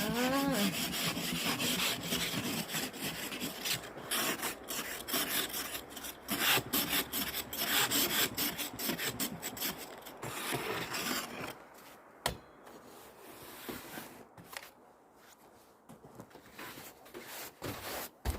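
Snow and ice are scraped off a car parked for several days, repeated rapid rasping strokes, close and fairly loud, continuing in bursts before thinning into sparser scrapes and quieter pauses toward the end.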